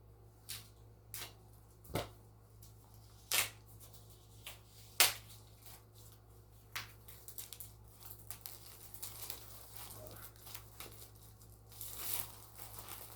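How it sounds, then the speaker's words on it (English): Plastic shrink wrap is peeled and torn off a comic omnibus, giving quiet, scattered crinkles and sharp tearing snaps in short bursts, close up, with no talking. "Let's take this plastic off so we can stretch that spine."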